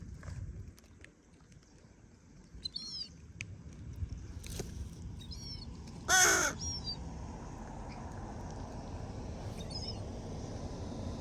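A crow caws several times in short, separate calls at a moderate distance, heard over quiet outdoor background noise with one louder burst midway.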